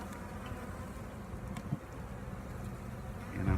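Bees around a hive being opened on a cloudy, calm day, a faint, steady buzzing drone with a few brief close passes, heard alone without talk.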